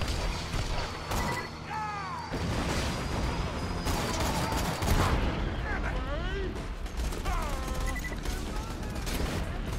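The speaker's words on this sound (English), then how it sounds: "Ah, I got you with a fucking shotgun" Shotgun blasts in Borderlands 2, a string of loud booming shots scattered through a busy firefight with chirping effects and clatter; a voice talks over it.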